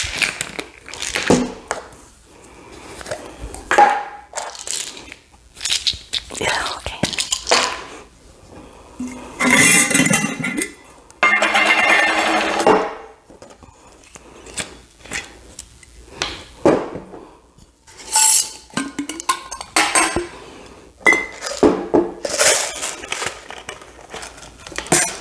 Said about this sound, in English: So just gonna take all the lids off and then put all the lids back on.